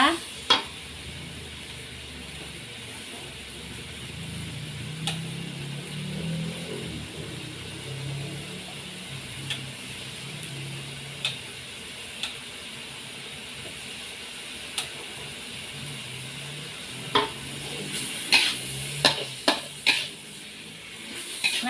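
Pork belly and ginger stir-frying in a pan: a soft steady sizzle under repeated scraping and clinking of a utensil against the pan, with sharper knocks toward the end.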